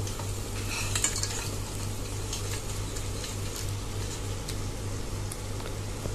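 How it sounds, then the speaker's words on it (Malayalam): Fresh crab stirred into a sizzling tomato masala in a pan, with a steady fry hiss, scraping stir strokes and light clinks of a utensil against the pot, close and continuous with no talk. "ഇനി ഇതിലേക്ക് നമുക്ക് ഞണ്ട് ആഡ് ചെയ്ത് കൊടുക്കാം."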